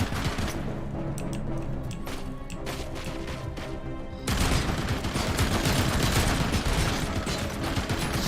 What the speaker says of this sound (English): Oh, another machine gun.